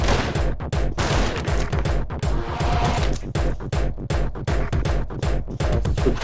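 A helicopter's mounted gun fires in the video game Anger Foot, loud rapid bursts of automatic gunfire in a steady rattling rhythm with brief pauses between volleys, close and dominating throughout.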